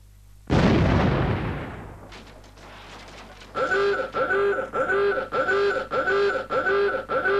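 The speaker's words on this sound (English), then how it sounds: "This tape will explode in less than 10 seconds." Self-destruct explosion of a secret-agent mission tape: a sudden loud blast near the start that decays over about three seconds, followed by a repeating pulsing electronic tone pattern.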